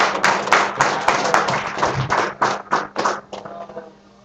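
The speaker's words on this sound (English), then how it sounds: "All right, a big round of applause, please, for Malek." An open-mic stand-up crowd claps for a comedian: a run of distinct, sharp hand claps that thins into scattered slaps and fades out near the end.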